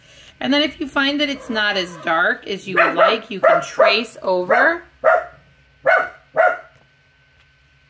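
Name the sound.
dog barking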